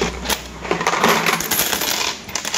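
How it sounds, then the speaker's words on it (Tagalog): Coins from a piggy bank spill and clatter onto a surface in a dense, continuous metallic jangle, with scattered sharper clinks of individual coins rising above the rush throughout. "bilangin naman natin itong barya bago natin bilangin lahat"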